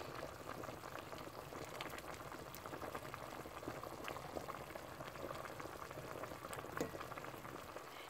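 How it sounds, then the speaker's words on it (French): Banana foufou boiling in a pot with maggi seasoning, a steady bubbling simmer throughout with dense popping and gurgling, close and continuous, no voices. "Et laissez bouillir au moins 5 à 10 minutes."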